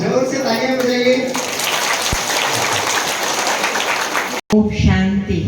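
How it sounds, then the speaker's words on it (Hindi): Audience applause at a spiritual community gathering in Rudraprayag, a dense steady patter of many hands clapping for about three seconds between stretches of a person speaking, then cutting off abruptly before talk resumes. "जोर से तालियां बजाइए।"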